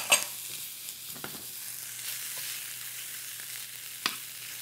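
Thin slices of mahi mahi with green onions fry in a pan, giving a faint, steady sizzle with a few soft stirring clicks, and no voices.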